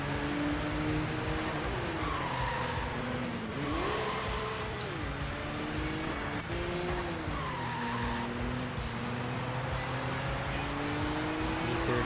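A BMW E36 with a 3-liter inline-six engine drifts in the Sega GT racing game, its steady engine drone rising and falling under repeated tire squeals and skids, loud and continuous.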